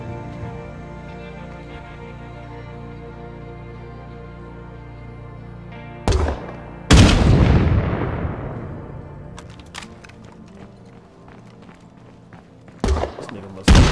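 Gunshots in the zombie-survival game State of Decay 2: a few loud, sudden cracks and booms after a quiet stretch, one with a long decaying tail, then a couple more bursts near the end.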